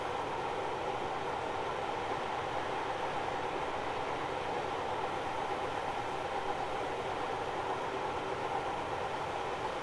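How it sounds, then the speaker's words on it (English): Steady, continuous metallic rail noise of Armstrong Powerhouse Mk1 coaches rolling in Train Simulator 2020, a flange squeal blended into a constant hiss with no talk. "Flange squeal."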